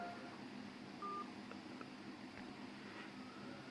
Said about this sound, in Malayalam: ഇനി നമുക്ക് ആ വന്ന കോളിലേക്ക് തിരിച്ചു വിളിക്കാൻ പോവുകയാണ്